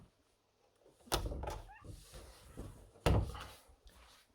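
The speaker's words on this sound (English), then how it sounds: "closet door" A closet door under the stairs in a Japanese house bangs shut twice, a few seconds apart, with a light creak or rattle between the two thuds, close and alone in a quiet room.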